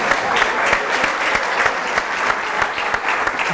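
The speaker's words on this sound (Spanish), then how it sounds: "Y un aplauso para Marcelo" A crowd applauds warmly for Marcelo at a Spanish literary event, sustained dense clapping with steady volume and individual sharp claps popping through, no talk over it.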